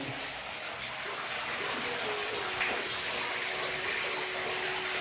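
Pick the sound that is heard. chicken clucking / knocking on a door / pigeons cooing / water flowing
water flowing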